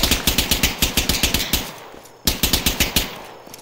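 Automatic gunfire in the Arma 3 video game: two loud, rapid bursts of evenly spaced rifle shots, the first around a dozen rounds, then a brief gap with a fading tail before a second burst of similar length.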